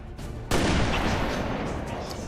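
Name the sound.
sniper rifle shots, from video game XCOM 2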